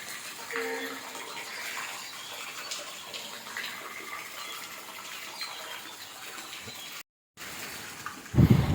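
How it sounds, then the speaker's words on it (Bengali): Morning rain falls steadily outside a home, a continuous broadband hiss of drops and running water with a brief dropout near the end and a louder close knock at the finish; no talking. "এখানে বোঝা যাচ্ছে বৃষ্টিটা পড়ছে"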